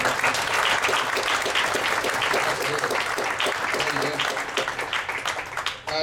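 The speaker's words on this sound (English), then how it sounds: "Let's get a round of applause for Martin." Sustained applause from an audience at a user group anniversary event as a man is called up to the front, dense clapping filling the whole stretch and thinning slightly near the end, with some voices mixed in.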